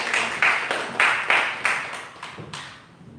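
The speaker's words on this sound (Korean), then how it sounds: "박수로 환영합니다" A church congregation at a Sunday worship service claps in welcome as the pastor comes forward, a short burst of scattered applause that fades out over a few seconds.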